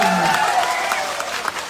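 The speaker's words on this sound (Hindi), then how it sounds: "एक बार ताली बजा करके बताइए कि मैं आप सुन रहा हूं" A crowd at a political rally in Assam claps in a dense, loud burst of applause that carries on steadily, with faint voices mixed in.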